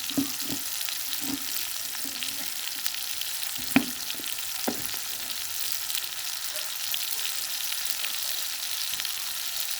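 Ridge gourd curry with onion and tomato fries in a pan, a steady even sizzle with a few light knocks and scrapes from stirring.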